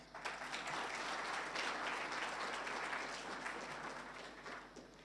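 Audience applause at an International Anti-Corruption Day 2024 event at Strathmore University, given for youth leaders: dense, even clapping fills the whole stretch and eases slightly near the end, with no voices over it.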